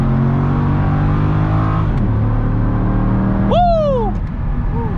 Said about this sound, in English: We're gonna do a little second gear pull just to be safe.